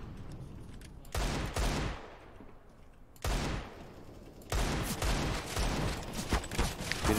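Bursts of gunfire in Counter-Strike, loud and dense, arriving in three separate volleys with quieter gaps between them.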